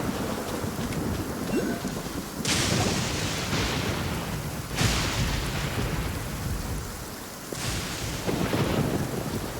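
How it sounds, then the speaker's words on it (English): A Genshin Impact thunderstorm, steady rain hissing throughout while three loud thunderclaps crack and roll away at regular intervals. "there's always thunder and lightning and all here."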